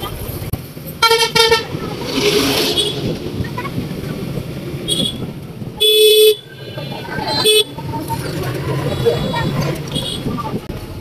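Auto rickshaws honk repeatedly in busy traffic on a small-town road near a bus stand, several loud toots cutting through steady engine and street noise, with voices talking throughout.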